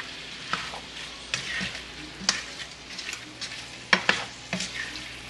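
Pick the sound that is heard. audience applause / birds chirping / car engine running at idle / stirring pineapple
stirring pineapple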